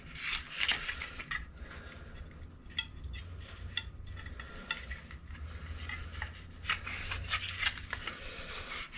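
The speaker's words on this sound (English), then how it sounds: "Just going to use some tape." Continuous rubbing and rasping of thread tape being wrapped around pipe threads while replacing a boiler auto vent, steady and close with a faint low hum beneath, no talking.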